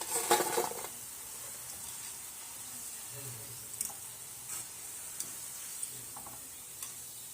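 A soft, steady sizzle of rice-flour fritters frying in oil, with a few light clicks and a brief stir near the start.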